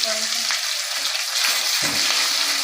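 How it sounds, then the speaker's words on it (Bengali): Cinnamon, cloves and two bay leaves sizzling in hot oil while being stirred, a steady close crackle with occasional scraping pushes of the spoon. "ঠিক এইভাবে ফোড়নটাকে কয়েক সেকেন্ডের জন্য নাড়াচাড়া করতে হবে"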